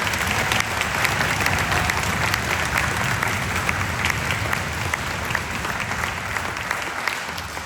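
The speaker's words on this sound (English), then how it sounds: "Let's give these students another round of applause" An audience at a school spring concert applauds the student performers, a dense, sustained round of clapping that holds steady and then thins slightly toward the end, with no voices over it.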